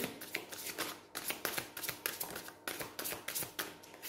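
Tarot cards are shuffled and handled up close, with quick riffling flutters and soft papery taps coming in short bursts separated by brief pauses.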